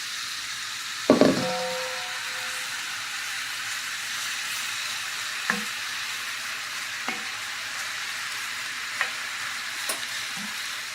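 Apples sizzle in a skillet for an old-fashioned apple skillet cake, with a steady close frying hiss, a loud clatter early on and a few light utensil taps afterward.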